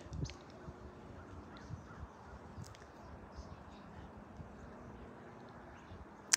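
Backyard birds, with crows cawing among them, heard as faint scattered calls over a quiet outdoor background, plus one sharp louder sound at the very end.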